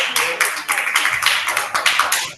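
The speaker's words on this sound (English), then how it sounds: "please have a round of applause for Lakshmi" A classroom round of applause for a student, with a group of people clapping in a dense, steady patter that stays loud and close throughout, with no one talking over it.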